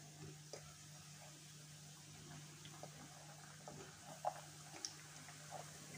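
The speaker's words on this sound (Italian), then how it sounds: "in una padella abbiamo messo dell'olio di semi per friggere" Eggplant cubes fry in seed oil in a pan, giving a faint, steady sizzle with scattered small pops and ticks throughout, quiet and without talk.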